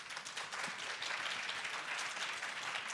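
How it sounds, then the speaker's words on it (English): Audience applause for a panel of speakers at a Hong Kong event, a steady, dense wash of many hands clapping at a fairly even level throughout, with no voices over it. "Let's give them a round of applause."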